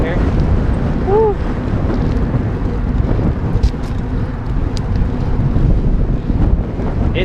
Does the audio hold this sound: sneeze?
no